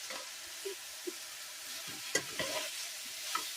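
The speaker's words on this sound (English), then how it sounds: "Let me see if I can turn this sausage again." Fresh sausage frying alongside onions in a pan, with a low sizzle beneath irregular scrapes and knocks as the pieces are turned, one sharper clatter in the middle, close and fairly quiet.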